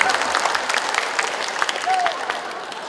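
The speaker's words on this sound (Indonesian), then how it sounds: "Nah ini boleh tepuk tangan." An audience at the launch event of the Kredit Melati program in Bandung claps steadily throughout, a dense, even applause that holds at a fairly loud level with faint crowd noise mixed in.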